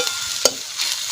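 Garlic roasting and being stirred in a pan: a steady, close, broadband frying hiss with one sharp scrape or clink about midway and soft shuffling stirs, no voices.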